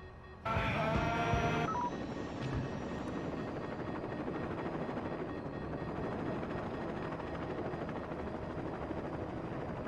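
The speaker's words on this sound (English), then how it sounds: "There should be a helicopter on the roof." Helicopter rotor and engine noise on a police station roof in the video game Saints Row 2, a loud steady whirring drone held for the full length, with a brief brighter burst of tones near the start.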